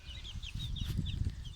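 A rooster in a backyard chicken setup calling in short, raspy bursts over a low rumble of background noise, moderately close and without speech.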